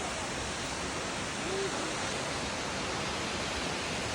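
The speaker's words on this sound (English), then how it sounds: "1200 steps down just to see this beautiful waterfalls." A waterfall at the bottom of a long forest stairway in the Kolli Hills, Kerala, roars as a steady, dense broadband rush, loud and unbroken throughout with no voices.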